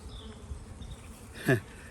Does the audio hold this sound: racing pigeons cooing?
no